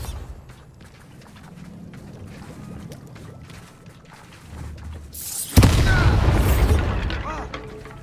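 A Bombarda explosion spell going off in Hogwarts Legacy, a sudden loud booming blast that bursts in and rumbles on for a couple of seconds. Ambient game sound and a voice come before it.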